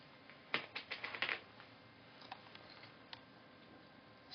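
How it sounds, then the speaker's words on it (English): Scissors snip through double-sided tape at close range: a quick burst of sharp crisp cuts, followed by a few sparse, quieter clicks against a hushed room. "So I'm just going to cut that tape with scissors."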